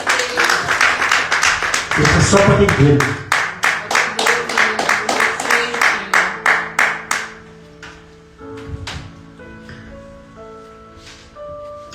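A church congregation claps together in a fast, regular rhythm for several seconds, loud and close, then the clapping stops and someone speaks over soft background sound.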